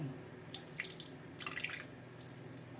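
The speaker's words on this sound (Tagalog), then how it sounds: "lalagyan na natin siya ng toyo" Soy sauce poured into chicken adobo being prepared with pepper and garlic, a faint close liquid splashing in two short bursts and a lighter trickle near the end, no talking.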